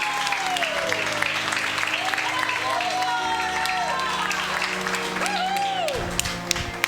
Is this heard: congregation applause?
yes